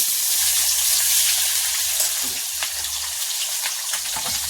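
Onion frying in oil in a pan for a chicken dish makes a steady, close crackling sizzle with scattered pops and a faint low hum beneath, and no talking.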